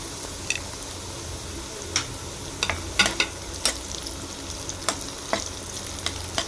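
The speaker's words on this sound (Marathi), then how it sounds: "एक कांद्याचे स्लाइस केलेले आपण टाकूया" Sliced onions sizzle steadily in a hot pan while preparing soya chilli, with occasional clicks and scrapes of stirring throughout; no talking.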